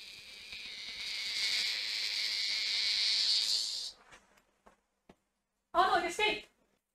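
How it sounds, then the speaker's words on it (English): A cicada buzzes indoors, loud and close, in a harsh, steady drone lasting several seconds before it cuts off. Brief clicks and then a short voice follow. "My cat brought home a cicada. Can you hear that?"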